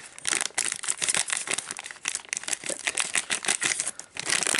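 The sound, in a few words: opening the packaging of a McDonald's Pokémon Froakie toy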